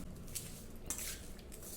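Ground dal batter, made without water, is stirred by hand in a bowl for dal vada, with a spoon scraping and clinking against the bowl in a few close, light strikes.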